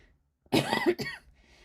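A single harsh cough with a short throat-clearing follow-up, close and loud against near silence.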